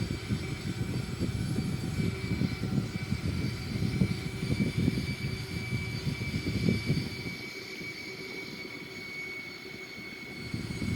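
An Airbus A340-313X lined up with the runway on final approach makes a continuous engine drone with steady whining tones, heard from the cockpit. It softens slightly toward the end, with no speech.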